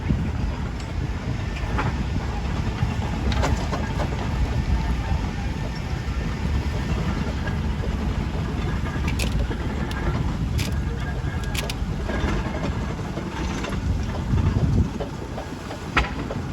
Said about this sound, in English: Just gone by has been the Fowler traction engine with 23 Sir Douglas